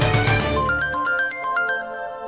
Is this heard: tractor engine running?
no